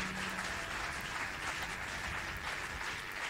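A church congregation claps together in steady, dense applause, evenly loud throughout the short stretch, with a faint voice briefly underneath at the start.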